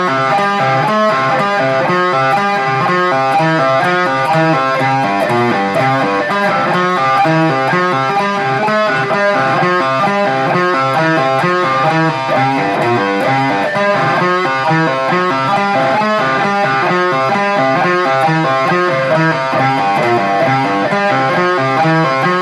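Distorted electric guitar playing a lead riff at a slow practice tempo, a dense, continuous, loud wall of crunchy tone with steady picked notes and no talk.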